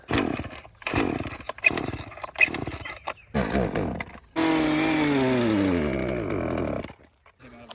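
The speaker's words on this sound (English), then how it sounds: "my chainsaw decided to take a poop on me" A chainsaw cutting down a thorny tree revs in several short bursts, then roars steadily for a few seconds before cutting off; loud and close, with no talking.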